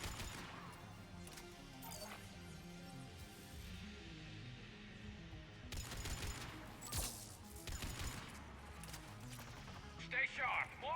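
Pistol gunfire in the video game Mass Effect 3, a steady run of sharp shots and impacts mixed into busy combat noise and music, with a voice talking over the action.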